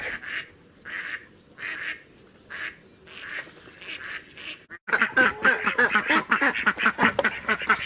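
A farm duck quacks repeatedly, first in a run of evenly spaced separate calls, then in a louder, denser burst of rapid overlapping quacks close to the listener, with no speech.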